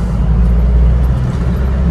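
A Mahindra Bolero diesel engine drones steadily from inside the cabin while driving, a loud low rumble holding even for a couple of seconds.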